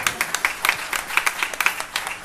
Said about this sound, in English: Give the Lord a hand clap of praise even.